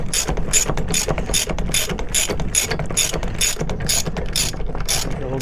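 A 3/8 ratchet on a 1/2 inch to 3/8 adapter clicks steadily while turning a nut on a Bilstein 6112 coilover, about a dozen evenly spaced, close, crisp ratcheting bursts with no talking.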